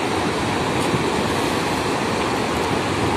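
Sea waves washing on a quiet, empty beach, heard as a steady, loud broadband roar of surf with no distinct breaks and no voices.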